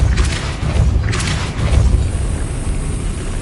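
A Depulso spell cast in Hogwarts Legacy lands as a loud, deep booming thud with a rushing burst, followed by a second heavy impact about a second later over a low rumble.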